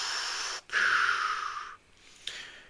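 Darth Vader's mechanical breathing effect from a replica model, a loud, close hissing inhale followed by a long exhale, then a fainter breath after a short pause.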